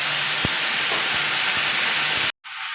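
Onion, chili and garlic tossed together into hot cooking oil, giving a loud, steady sizzling hiss that runs on and then cuts off abruptly.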